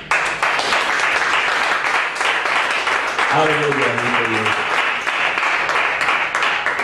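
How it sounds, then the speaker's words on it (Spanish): A church congregation bursts into sustained applause during a class, steady dense clapping throughout while a voice calls out briefly over it midway. "Ese fue ese aplauso"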